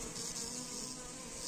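Honeybees buzz in a continuous, close, dense drone at a hive during late winter, with no talk over them.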